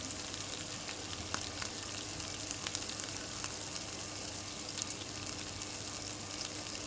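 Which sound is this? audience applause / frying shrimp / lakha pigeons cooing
frying shrimp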